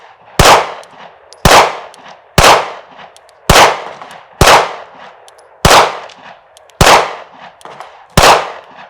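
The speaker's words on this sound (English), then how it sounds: "I'm gonna do just some double taps into dirt just to warm up" Glock pistol fired outdoors into dirt as double taps, eight sharp, loud reports spaced roughly a second apart, each ringing off briefly into open air.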